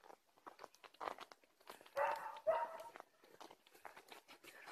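Dogs eating from a bowl outdoors near a herd of goats and sheep: crunching, crinkling and chewing in short close bursts, with a few louder bites, and a brief dog noise in the middle.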